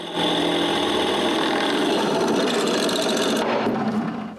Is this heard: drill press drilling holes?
yes